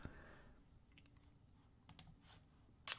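A few faint, sparse clicks from a computer mouse in a quiet room, with one sharper click near the end.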